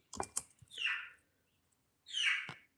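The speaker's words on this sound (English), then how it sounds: "Is that a chicken or is that a bird in my shop here?" A small bird gives two short, bright chirps inside a workshop, each about half a second long and a second apart, with a few faint knocks at the start and no talking.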